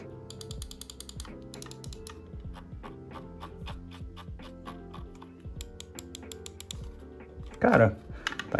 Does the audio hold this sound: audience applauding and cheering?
no